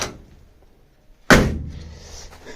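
A VW Type 2 van door slammed shut once, a sharp heavy metallic thunk after a quiet stretch, followed by a brief ringing decay and faint rattling in a workshop.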